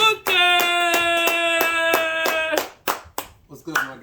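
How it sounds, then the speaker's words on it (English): Rhythmic, steady clapping from a talk-show audience welcoming a guest, sharp regular beats over a sustained tonal musical backing, fading into scattered claps at the end. "please give a big round of applause for my boy, Vinnie Booker!"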